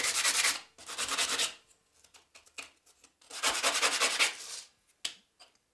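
Sandpaper rubs back and forth against a hard stick in two long bouts of raspy strokes, close by, with small scrapes and pauses between.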